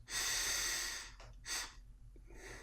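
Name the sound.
slow deep breath in through the nose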